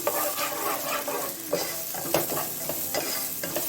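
Chopped onions and green chillies sautéing and being stirred in a hot pan, a steady close sizzle broken by the scrape of a spoon, with no voices.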